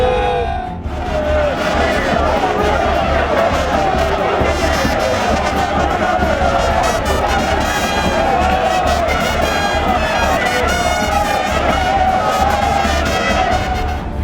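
Large street crowd on Avenue Elengesa in Kinshasa welcoming governor Gentiny Ngobila Mbaka: dense, loud cheering and shouting babble with a steady rhythmic pulse underneath, continuous throughout.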